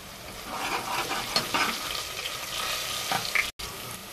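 Cumin seeds hit hot oil in a pan along with green chillies and curry leaves, giving a loud, steady, close sizzle with a few crackles and pops, and a brief break near the end.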